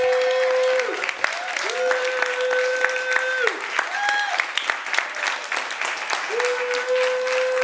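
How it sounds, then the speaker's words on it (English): Audience applause during a Sunday church celebration service, steady broad clapping throughout with sustained musical tones and voices layered over it. "Let's give a round of applause to these two ladies."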